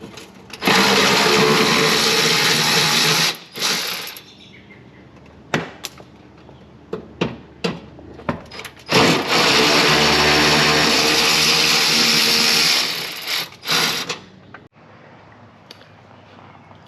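Ratchet spinning out the four 10mm bolts holding the bezels on a Ram 1500 during a front tow hook install: two long, loud stretches of steady whirring, separated by short clicks and knocks, with no talk.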